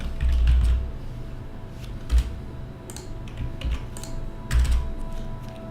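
Code being typed on a computer keyboard, with soft scattered key clicks and a few heavier thumps over a quiet room hum, no talking.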